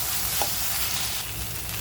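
Ginger and garlic frying with onions in salted butter, giving a short, steady, close sizzle with no talk.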